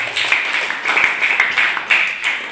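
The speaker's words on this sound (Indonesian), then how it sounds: "Tepukan untuk Pak Sekda." Applause from an audience at a school civic-education session at SMAN 23 Padang, greeting the regional secretary with bright, scattered claps in short waves.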